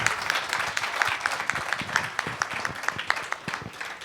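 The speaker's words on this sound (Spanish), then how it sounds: "Un aplauso más para Cristina y otro para Héctor." Steady audience applause at a political talk on Brazil, many hands clapping densely and fairly close throughout.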